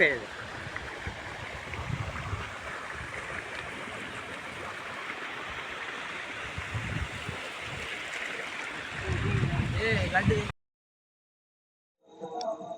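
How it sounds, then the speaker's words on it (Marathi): A river in a forest near Bondivali flows steadily, a close, continuous rush of water that carries on for about ten seconds before cutting off abruptly, followed by a short faint sound at the very end. "हे तुम्ही बघू शकता की अजूनपर्यंत इथे नदीला पाणी आहे"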